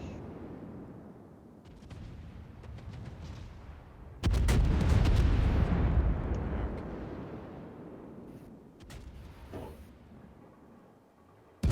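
Naval guns firing in a warship video game: a heavy, roaring boom that swells and slowly rolls away, with lighter rumbling before it and a fresh blast cutting in at the very end.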